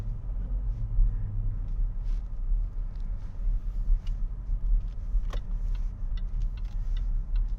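A 2013 Range Rover Sport HSE, not supercharged, cruises around town with a steady low road rumble and engine drone inside the cabin, plus faint light ticking and clicks.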